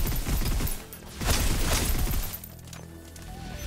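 Gunfire in a military video game, with rapid bursts of automatic fire in two loud volleys, dense and close, separated by brief lulls and followed by a softer mechanical tail.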